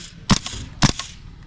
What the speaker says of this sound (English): Every single trigger pull, a gel left the barrel